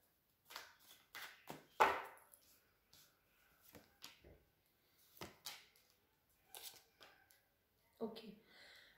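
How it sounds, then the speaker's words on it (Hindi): Tarot cards are shuffled and pulled for a Taurus reading in short separate bursts of riffling and slapping, close and quiet, with silent gaps between the bursts. "let's pull some card for guidance"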